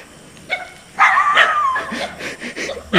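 A dog barking outdoors, a few sharp barks and yelps up close in quick succession, loud over quiet surroundings.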